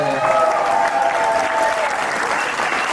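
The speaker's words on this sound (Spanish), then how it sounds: "fuerte el aplauso también" Steady applause from the crowd at a tango festival in Lugano, with a voice and faint music audible underneath.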